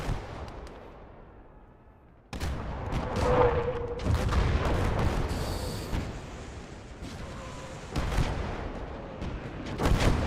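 An artillery gun fires in a World War II video game set at Stalingrad, with a loud boom cutting in after a quiet stretch, rumbling heavy blasts and later shots amid mechanical battle noise.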